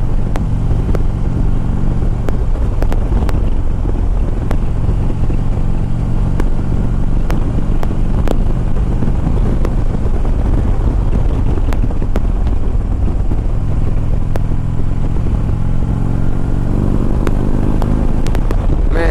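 A 2011 Harley-Davidson Ultra Limited touring motorcycle cruising at high speed on the Autobahn, a constant loud engine drone mixed with heavy wind rush and occasional ticks, with no speech.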